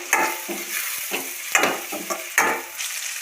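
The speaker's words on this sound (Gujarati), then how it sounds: "हरखुथी मिक्स करी लेशुं" A spoon stirring turmeric, salt and garam masala into a dry potato bhaji mixture, several scraping strokes against the pan in an uneven rhythm over a light sizzle, close and clear.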